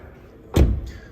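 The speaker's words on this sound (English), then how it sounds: "Solid opening, closing sound, what we use in Volkswagen." The rear door of a 2022 VW Taigo R Line shuts with a single solid, close thud, followed by a faint latch sound.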